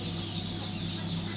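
Chickens on a duck and chicken farm give a dense, continuous barnyard murmur of clucking, with steady low noise throughout.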